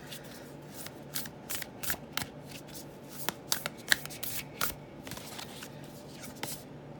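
Tarot-style wisdom cards are shuffled for a reading, a close run of crisp riffling and slapping bursts with no talking.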